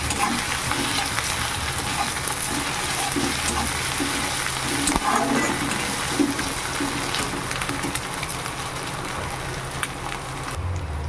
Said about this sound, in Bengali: আদা রসুনটাও ভালো করে ভেজে নিয়েছি